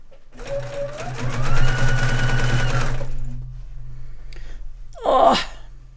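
Sewing machine stitching fabric for a dog bed: a close, steady mechanical whir with a fast rhythmic needle chatter that ramps up, runs about three seconds and stops, followed by a brief sneeze-like human sound.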